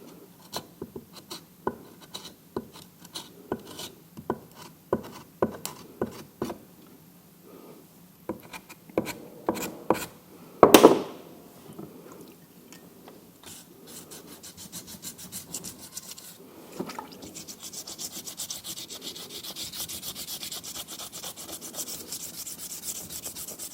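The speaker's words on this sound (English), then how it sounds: "Smooth out any bumps you've made with your scraper, or any bumps that you've not managed to scrape away." A scraper rasps over a plaster mould in a ceramics workshop, with short, irregular scraping strokes, a louder knock around the middle, then a steadier continuous rubbing toward the end, fairly close and with no talking.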